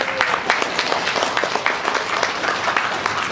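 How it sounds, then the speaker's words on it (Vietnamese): Audience applause at a business presentation in Malaysia, a close, brisk patter of many hands clapping steadily throughout the short stretch with no talking over it. "Một tràng pháo tay cho One Call nhí."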